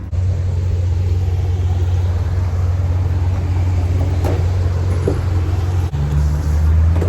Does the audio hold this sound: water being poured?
no